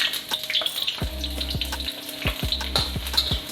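One medium onion sautéing in two tablespoons of hot oil, a close continuous sizzle and crackle with a few stirring sounds, over a rhythmic low background thump and no voices.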